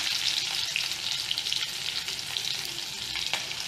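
Mustard seeds, asafoetida, curry leaves and green chili frying in hot oil for a cornflakes chivda, a bright continuous crackling sizzle, close and even, with faint spattering pops.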